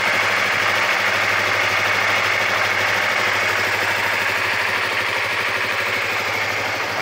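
A brand-new, not yet broken-in MT motorcycle engine idles steadily and evenly with a constant rumbling hum and fine rapid pulsing, no revving, no voices.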